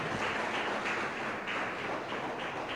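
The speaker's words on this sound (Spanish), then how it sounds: "Y la iglesia del Señor le da un aplauso al Señor." A church congregation applauds during a worship service, a dense, steady wash of many hands clapping together throughout without pause.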